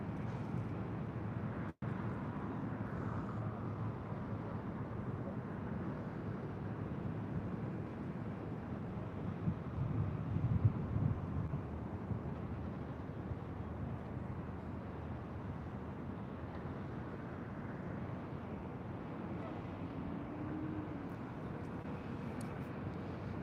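A Southwest airliner lands on runway 24 left at LAX, heard as a steady distant jet roar that swells slightly in the middle of the clip and lasts throughout, with no talking over it.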